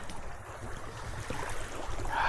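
Gusty wind blowing over water during a packraft canoe outing, a rough, rushing noise that swells and builds toward the end, fairly faint, with no voices.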